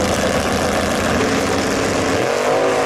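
A 74 Nova and a 67 Camaro drag car warm up their tires before the starting line. The sound is a loud, continuous engine roar with raspy revving, close and sustained throughout.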